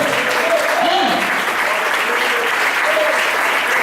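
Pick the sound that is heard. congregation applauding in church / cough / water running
congregation applauding in church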